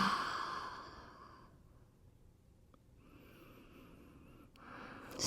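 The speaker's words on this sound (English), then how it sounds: "Take a deep inhalation through your nose and exhale through your mouth." A deep breath in through the nose followed by a slow exhale through the mouth during a yoga flow, a long airy sigh that fades out, then a quieter breath.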